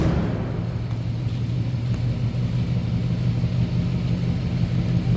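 A 1954 Oldsmobile 88 Holiday idles steadily, heard from behind the car near the exhaust. It makes a smooth, low, even rumble with a quiet exhaust note and no revving.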